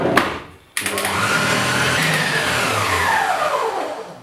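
Electric mixer beating softened butter for lemon and raspberry cupcake batter, a steady loud motor whir that starts after a brief pause and runs continuously with slight pitch shifts as it churns.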